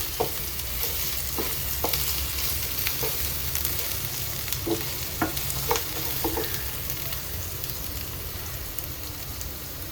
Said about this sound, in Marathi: मी तुपामध्ये पहिले जिरे टाकलं आणि ऑनियन वगैरे सगळं टाकून सगळ्या व्हेजिटेबल्स आहेत ना थोडे फ्राय करून घेते